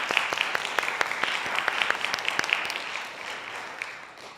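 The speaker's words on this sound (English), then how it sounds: "Let's give him a little round of applause." A small recital audience applauds a guitarist after a bossa nova number, light scattered clapping with individual sharp claps standing out, tapering off toward the end.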